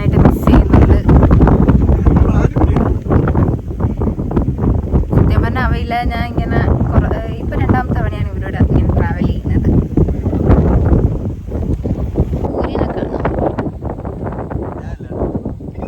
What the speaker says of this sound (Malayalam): സത്യം ഞാനിങ്ങനെ നിൽക്കുമ്പോ കാറ്റടിച്ച് ഇങ്ങനെ പിറക്കോട്ട് കൊണ്ടുപോവാണ് ഗൈസ്